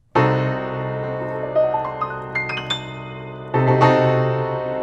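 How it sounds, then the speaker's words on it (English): A sustained diminished seventh chord rings out, followed by a few single notes stepping upward, then the full chord sounds again, loud and clear with no talking. "now we're going to talk about the diminished chord."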